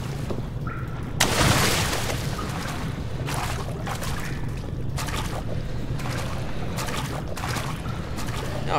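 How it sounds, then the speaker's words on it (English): Water rushes and drains in the horror game Penumbra: Black Plague, a continuous heavy churning roar with a louder surge early on and repeated swells of splashing flow throughout. "Look how fast this water's going down"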